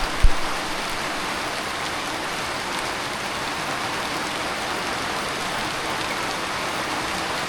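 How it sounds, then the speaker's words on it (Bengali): Steady rain pours down in an even hiss, broad and constant, after a brief knock at the start, on a rainy morning in a rural outdoor setting. "বৃষ্টি শুরু হয়ে গেল।"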